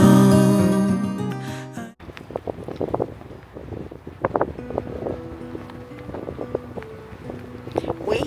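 Strong coastal wind buffets the microphone at Marwick Bay, Orkney, as broadband roaring gusts that continue under faint voices after a burst of music at the start.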